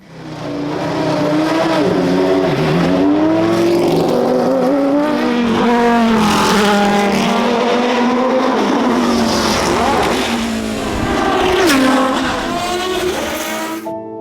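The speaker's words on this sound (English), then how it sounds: "The sound of that V10 was stunning, absolutely stunning." A V10 race car engine screams at high revs, pitch rising and falling through gear changes, loud and continuous with no voices.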